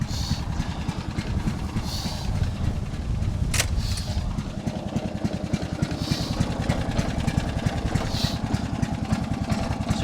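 An old vehicle's engine runs steadily while driving, a close, loud, pulsing rumble with a brief clunk and shift partway through as it goes into fourth gear, then carries on at a slightly changed pitch.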